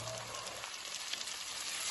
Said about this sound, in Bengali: আমার পেঁয়াজ টমেটোগুলো ভুনা হয়ে যাবে